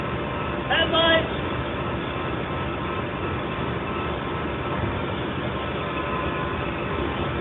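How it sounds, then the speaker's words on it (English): An approaching CSX freight train rumbles steadily, filling the scene, with a brief burst of a voice early on over the continuous mechanical roar. "Here comes the train."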